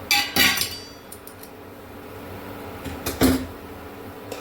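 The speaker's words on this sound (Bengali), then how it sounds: "ঢাকাটা তুলে নেব।" A lid is lifted off a pot of boiling soup: a sharp clink at the start, a quiet stretch, then a second knock-and-clink as it is set down, with no talking.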